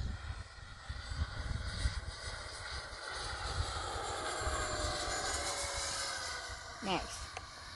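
A Freewing Me-262 twin 70mm EDF radio-controlled jet makes a low pass at full throttle, a sustained whooshing turbine-like roar that holds steady and rises slightly as it sweeps close by outdoors.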